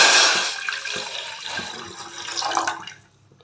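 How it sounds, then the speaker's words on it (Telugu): Water splashes and pours steadily into a metal pot on the stove for sago khichdi, a broad rushing wash that swells again briefly before cutting off. "గిన్నె పెట్టేసుకున్న పొయ్యి మీద ఇందులోకి వాటర్ వేసేసుకుందాం"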